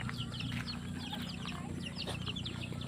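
Chickens cluck and chatter together at feeding time, a busy flock of overlapping calls heard close by over a low steady hum, with no talk.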